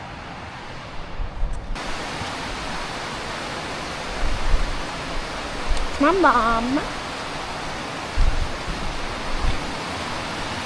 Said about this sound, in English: Look at all that water flow.